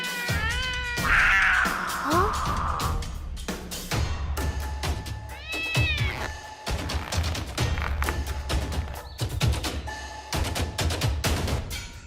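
Several cat meows from a cartoon, some drawn out and whiny, repeating close by with brief pauses and light thumps between them.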